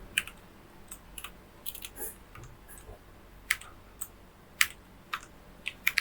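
Sparse keystrokes on a computer keyboard while Python code is entered, with scattered light clicks and a few sharper taps in an otherwise quiet room.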